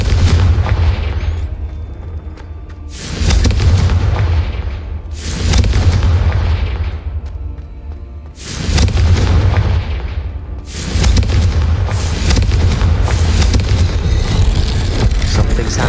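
Confringo fire spell explosions in Hogwarts Legacy, a series of loud deep booms with long rumbling tails repeating every few seconds, close and dominant.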